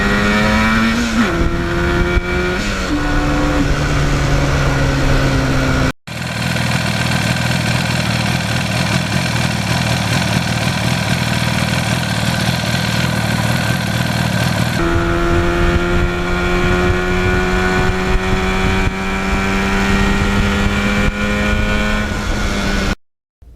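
A 1977 Yamaha RD400 two-stroke motorcycle runs close by, its buzzy engine idling and rising and falling as the throttle is blipped, loud and steady with a brief cut partway through.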